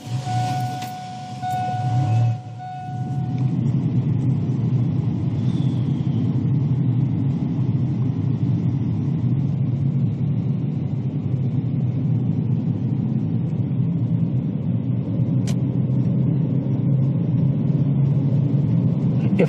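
A car drives along a road with a steady low engine rumble and road noise lasting the whole stretch, after a brief quieter moment at the start.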